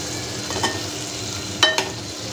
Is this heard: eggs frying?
yes